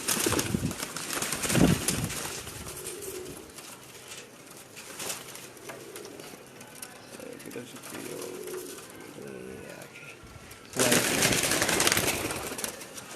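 Pigeons at a pigeon club in Gujranwala coo softly at close range amid rustling and scattered movement, with bursts of broadband noise near the start and a loud stretch toward the end.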